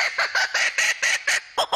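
A kookaburra, the Australian laughing bird, gives its territorial call in a loud, close run of rapid harsh cackling bursts, about eight of them, with no talking over it.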